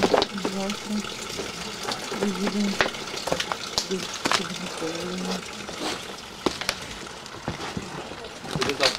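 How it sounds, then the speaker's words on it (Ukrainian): Spring water runs steadily into a container at the Dzvinkova Krynytsia holy spring near Mezhyhirya during a winter pilgrimage, a continuous splashing trickle close by, with faint voices and movement in the background. "Ось тут воно джерело. Воно тече та треба набрати тут."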